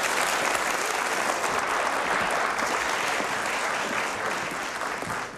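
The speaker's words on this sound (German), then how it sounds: "Und ein riesen Applaus vom Publikum." Studio audience at a German TV game show breaks into loud, sustained applause, a dense wash of clapping that holds steady throughout with no talk over it.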